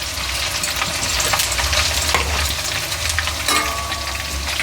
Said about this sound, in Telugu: కొద్దిగంతా ఊరికనే మనకు డీప్ ఫ్రై అయిపోతుందండి అంతే